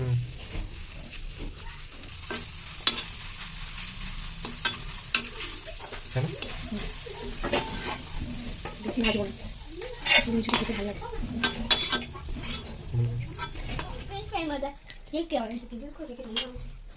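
Homemade potato chips frying and being stirred in a pan, a steady low sizzle broken by frequent sharp scrapes and clinks of a utensil against metal, with people talking throughout.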